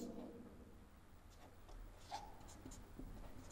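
Faint scratching strokes of writing on a board or paper during a language lesson, a few short bursts over low room noise.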